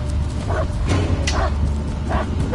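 Dog barking in the Blair Witch horror video game, a few short separate barks spaced across the moment over a steady low ambient drone.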